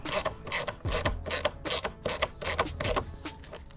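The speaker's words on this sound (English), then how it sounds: "we just need to insert our screws and tighten them back down" Screws being driven back into a plastic Ford air filter housing make a run of quick ratcheting clicks in short bursts, close and fairly clear with no talking.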